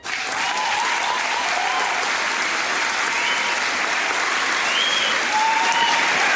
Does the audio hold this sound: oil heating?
no